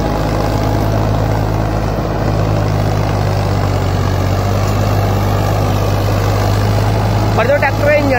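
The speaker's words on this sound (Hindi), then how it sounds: "पर जो ट्रैक्टर का इंजन है भाई, ट्रैक्टर का इंजन नहीं दब रहा" A Farmtrack 65 EPI tractor, an older model, running an 8-foot rotavator through soil, its engine producing a loud, continuous heavy drone with a steady low hum; someone talks over it near the end.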